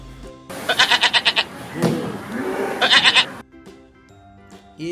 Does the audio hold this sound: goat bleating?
yes